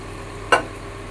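A small splash of water hits prawns frying with spices in a pan, giving one sudden sharp sizzle burst that quickly fades back to a low hiss, close up.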